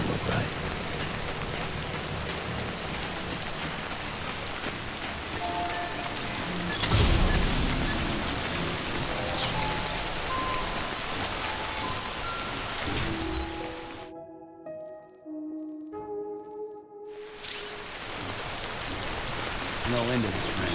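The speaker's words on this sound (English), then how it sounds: "No end to this rain." Steady rain pours in the video game Death Stranding, a dense hiss that runs through most of the stretch, with a brief loud burst early on and tonal game sounds cutting in near the end; a voice speaks over it at moments.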